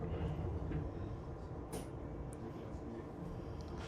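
Steady low rumble of a moving tram from inside, with faint squeaks and clatter, fairly quiet and continuous.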